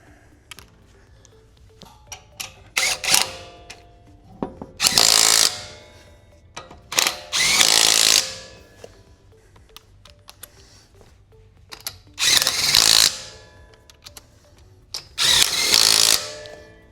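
An impact driver runs bolts into caliper covers on a Cybertruck in four loud, separate bursts of a few seconds each, with quiet handling noise between them.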